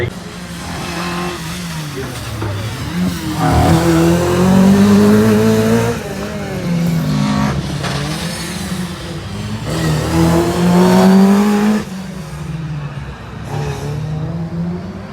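Rally cars racing at Cadwell Park for an end-of-season event, one sliding sideways, engines roaring and revving in rising surges with some tire noise, loud and close under steady commentary.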